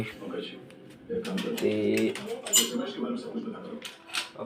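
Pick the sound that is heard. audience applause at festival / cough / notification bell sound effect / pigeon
pigeon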